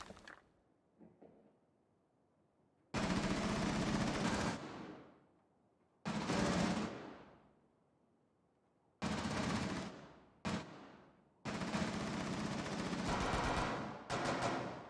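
Bursts of automatic gunfire from Rainbow Six, a loud sustained volley followed by several more close bursts separated by short pauses, with faint background sounds between them.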